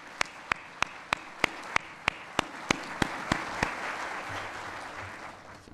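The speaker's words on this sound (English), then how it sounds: "So please join me in a round of applause for our sponsors." Applause from a community report gathering, opening with a slow, loud run of a dozen evenly spaced single claps close by before a softer, dense wash of audience clapping builds and fades.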